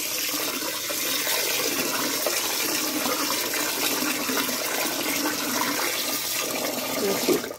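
Water runs and splashes steadily as rice is rinsed in a bowl, a continuous close rushing wash with a slight rise near the end.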